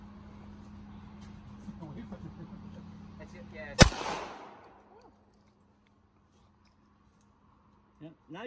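During a Fourth of July gathering, a single sharp gunshot cracks loudly and close, its report ringing out briefly before quiet. People talk beforehand over a low, steady hum.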